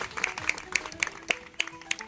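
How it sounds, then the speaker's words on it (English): Sparse, evenly spaced claps ring out about four per second, sounding like a small group applauding briefly rather than a full crowd. "We can give her a round of applause for that."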